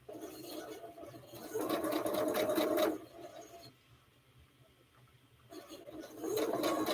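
A sewing machine stitches in two bursts of fast mechanical whirring, separated by a short quiet pause before the stitching starts again. Close and moderately loud, with no talking.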